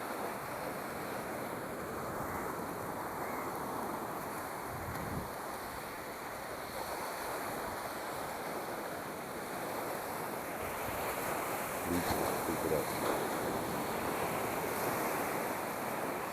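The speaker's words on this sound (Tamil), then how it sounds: "வேறு பெரிய அலை ஒன்று வருது." Ocean surf at Varkala beach makes a steady, broad wash of breaking waves that swells slightly toward the end, mixed with wind buffeting the microphone and no clear talk.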